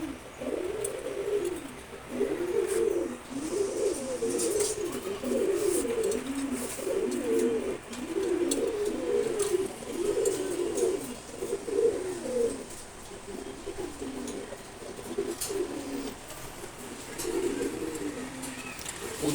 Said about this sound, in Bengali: আমার খুবই পছন্দের এক জোড়া কবুতর এটা।